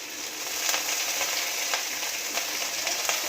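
Curry leaves frying in hot oil for onion sambar give off a steady close sizzle and crackle, with soft stirring clicks in a regular pulse and no voices.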